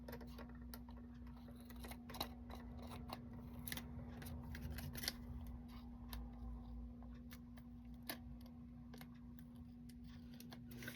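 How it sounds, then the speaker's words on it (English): Scissors snip off small ends of paper while crafting with a positioner tool, sharp quiet clicks and cuts scattered irregularly over a steady low hum, close by with no speech. "So I'm going to go ahead and just trim off the little ends here."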